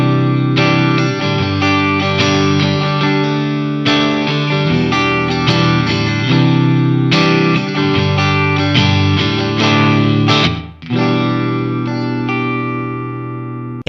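Distorted electric guitar running through DSC amp simulation, playing a loud, sustained riff with rhythmic chord hits and a brief dropout near the end, no speech.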